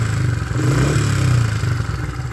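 A Honda CRF70F motorcycle engine runs steadily at close range, a rough mid-pitched putter that swells briefly as if revved and then settles back toward a steady idle, with no voices.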